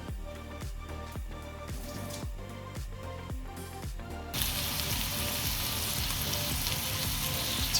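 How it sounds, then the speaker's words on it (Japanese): A series of about eight sharp, rhythmic taps is followed by a sudden loud burst of sizzling as fish fillets seasoned with black pepper hit hot butter, the frying hiss then continuing steady and close. "ブラックペッパーを振りかけて香ばしくバターで焼こうと思います"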